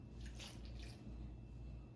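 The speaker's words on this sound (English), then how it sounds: "Now I'm going to add the water." Water poured into chocolate bundt cake batter, heard up close as a steady, wet splashing stream with a couple of brighter gurgling surges, continuous for about two seconds with no talking.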